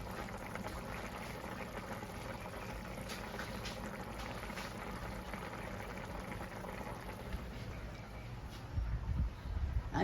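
Rice simmers and sizzles in a pot with chicken, pork and pigeon peas, a steady close bubbling hiss with no talk, ending in a short burst of clatter.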